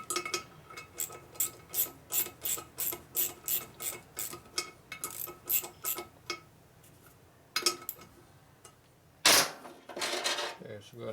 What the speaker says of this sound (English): If you hold the wrenches correctly, you can just squeeze them together to make them tight.